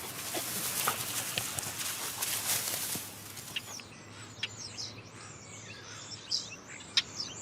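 A starling sings its courtship song beside a battered old airplane at an airport, faint chirps and whistles scattered over a noisy, rattling background with occasional sharp clicks.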